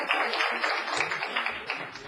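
Crowd applause at a city council meeting, a dense, even patter of clapping from the audience filling the short moment without any talk.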